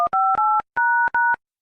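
Touch-tone keypad beeps sound as a phone number is dialed in a Chhattisgarhi cartoon comedy, four loud, clean, evenly spaced two-tone beeps separated by short silences, with no voices.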